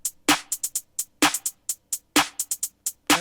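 A programmed drum pattern built in Soundtrap plays crisp snare hits with quick, tight closed hi-hat ticks in a steady, syncopated groove, clean and isolated.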